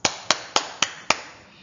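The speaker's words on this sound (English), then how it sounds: "let's give ourselves a round of applause" Five sharp, evenly spaced claps, crisp and close with short decays, like a synthetic or single-person round of applause, with silence between each strike.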